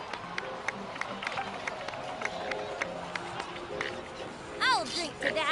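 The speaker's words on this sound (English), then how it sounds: "please give another round of applause for them" A crowd in the video game Genshin Impact (Natlan) claps and cheers under steady chatter, with scattered voices talking throughout and a short swooping tone near the end.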